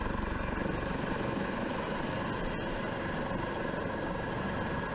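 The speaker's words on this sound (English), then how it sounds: "a Coast Guard helicopter is launched to the scene of an emergency" Coast Guard helicopter, a steady dense rotor and engine roar that fills the whole stretch without letting up, loud and even, with no voices over it.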